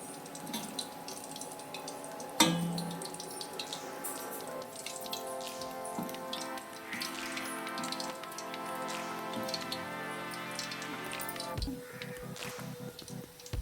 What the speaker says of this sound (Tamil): இது நல்லா லோ ஃப்ளேம்லேயே வச்சு பொறுமையாக செவக்க வச்சு எடுத்துடலாம்.